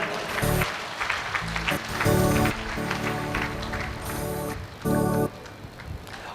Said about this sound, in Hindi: एक बार जोरदार सम्मान में और तालियां।